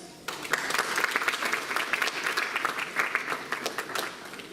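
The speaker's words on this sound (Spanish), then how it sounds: "La misma vez lo recibimos con un fuerte aplauso." Strong audience applause at a law conference in Arequipa, starting abruptly and continuing as many individual claps blend into a dense, lively roll.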